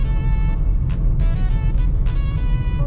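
A car driving along a windy road on Bonaire, a loud steady engine and tyre rumble heard from inside, continuous throughout with no talk.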